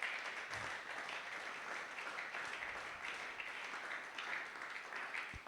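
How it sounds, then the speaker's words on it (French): Congregation in a Sunday praise and thanksgiving church service applauding for Jesus, a steady, dense wash of many hands clapping at an even level throughout, slightly distant. "nous allons encore acclamer pour Jésus"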